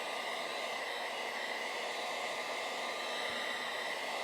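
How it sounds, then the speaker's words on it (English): A heat gun blows steadily on thick PVC fabric of an inflatable boat, giving a continuous, even airy roar with no breaks, heard alone. "Don't leave the heat gun sitting in one spot too long."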